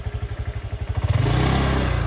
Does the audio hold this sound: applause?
no